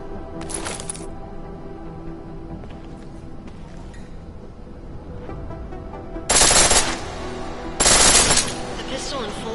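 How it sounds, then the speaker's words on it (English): A pistol fires full auto in Deus Ex: Mankind Divided, with three short loud rapid bursts standing out over a low game ambience, the first brief and the last two longer. "The pistol in full auto will take down targets fast, but it'll burn through your ammo."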